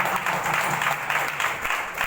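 An audience at a Diwali special meeting claps in a steady, dense burst of many hands throughout, close and fairly loud.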